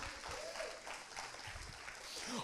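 A church congregation applauds during a sermon, a faint, diffuse clapping that carries on briefly in the background.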